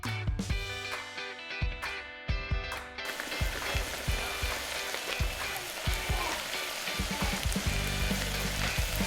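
Kimchi stew ingredients sizzle and crackle as they are stir-fried in oil in a pot, with repeated scraping and clacking of a utensil over a steady bright frying hiss.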